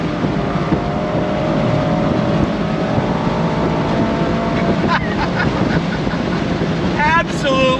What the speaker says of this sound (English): Let her rev, don't shift. She pulls all the way to red line.